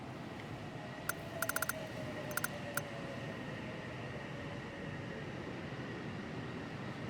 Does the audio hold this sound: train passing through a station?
yes